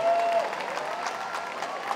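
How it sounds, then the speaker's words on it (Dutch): Audience applause at the Suripop 2024 song festival awards, a steady crowd clapping evenly for two seconds, with a faint brief tone at the start and some crowd murmur beneath. "Een hartelijk applaus, dames en heren, voor de best performers van vanavond."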